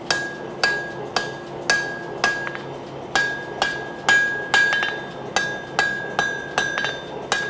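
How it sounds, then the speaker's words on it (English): Steady rhythmic hammer blows ring out on a stainless san mai knife preform being forged, each strike a bright metallic clink at roughly even intervals, close and alone. "I can start to clean it up with the hammer. I'm going to drive the tip to one side."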